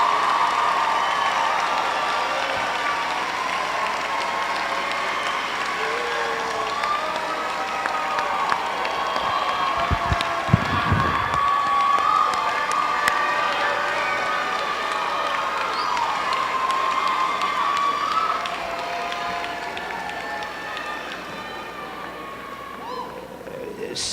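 A university commencement crowd of graduates applauding and cheering, a dense continuous roar of clapping and shouts that holds steady throughout, with some voices rising above it.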